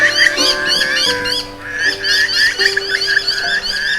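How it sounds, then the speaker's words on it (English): Black swans calling at Forest Lake: bugling, honking calls over a steady chorus of chirping birds, with several distinct calls spread through the stretch. "The black swans."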